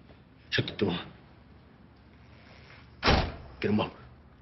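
A door is pushed shut amid a tense confrontation, giving a couple of heavy thuds with scuffing and movement around them, and voices in between.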